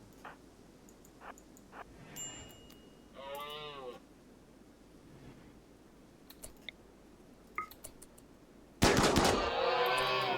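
Gunfire from hunting an elk in the RimWorld video game: a single loud, sharp shot near the end, followed by sustained noise, after a stretch of quieter game sounds and animal calls.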